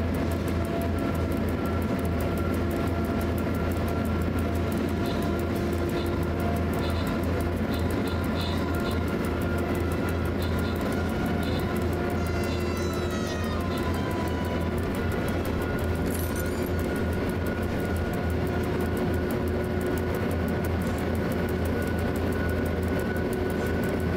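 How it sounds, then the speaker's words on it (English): A train driven in a video game rolls on with a constant heavy drone and steady engine hum, a few faint squeals and chirps sitting above the continuous noise. "I will focus on driving the train"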